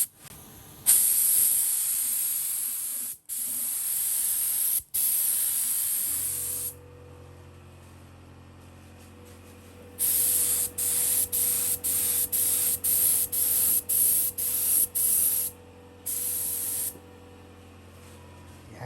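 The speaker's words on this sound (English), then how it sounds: "Just going to put a couple of these bits into primer." A cheap spray gun sprays primer onto car parts such as an airbox in a DIY spray booth, loud hissing bursts, one long and then many short repeated blasts, with a low hum between.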